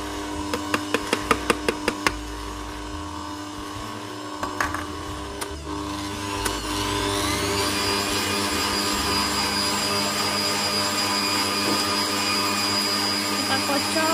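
An electric mixer whirs continuously as it beats coconut-milk steamed sponge cake batter, with a few sharp knocks at the start before the steady high whine settles in; no one talks.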